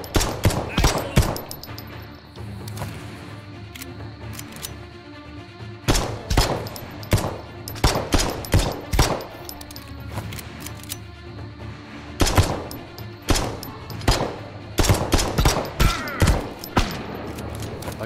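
A shotgun fires in the video game Potentia, with repeated sharp blasts in uneven clusters amid other gunfire, loud and close, while someone talks intermittently.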